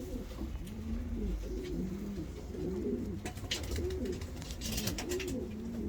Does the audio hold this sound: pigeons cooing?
yes